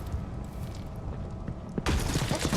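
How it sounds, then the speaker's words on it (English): Gunfire in Dishonored 2: after a low rumbling ambience, a sudden burst of sharp shots and clattering impacts breaks in near the end, loud and close. "Someone's shooting at us!"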